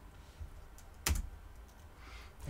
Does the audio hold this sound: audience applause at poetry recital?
no